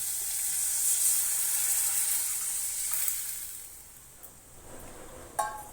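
Kuzhambu gravy for lentil-ball curry simmering and sizzling in a pot, a soft continuous hiss at moderate distance, closing with a brief clink of a utensil against the pot.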